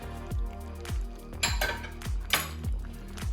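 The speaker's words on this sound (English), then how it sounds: "Just give that a quick stir and let that simmer for approximately 5 minutes." French beans being stirred into a simmering Cypriot turlu vegetable stew in a pot, heard as a close run of soft scraping and clinking knocks against the pot, a few sharper metallic ticks, and no talking.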